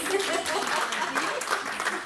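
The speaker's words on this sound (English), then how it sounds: "Blue, can we give her a round of applause?" Brief, soft applause rises from the audience at a mentoring launch event, the clapping quiet and short-lived, with murmuring voices mixed in.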